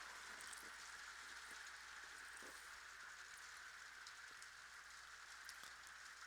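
Rain falls in a steady, continuous hiss with faint scattered drops, quiet and unbroken, with no voices.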